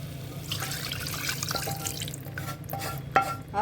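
Water is poured into a pot of thick, heavily spiced mutton curry and stirred in, a close splashing pour followed by wet stirring and a few clinks, with no talking.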